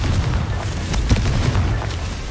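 The Confringo blasting spell in Hogwarts Legacy goes off as a loud, heavy explosion with a deep rumbling boom and a brief crackling burst, sustained at close range with no talk.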